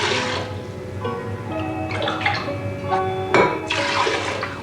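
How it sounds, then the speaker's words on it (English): Spring or well water pours into a pressure cooker holding two cups of brown rice, a steady splashing stream with a few brief surges, close and fairly loud with no talk. "Add 3 cups of spring or well water."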